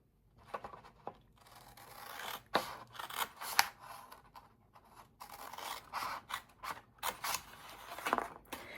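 Scissors snip teeny slivers from cardstock for a purse-shaped gift card holder, a series of close, soft cuts and rustles with uneven pauses between them.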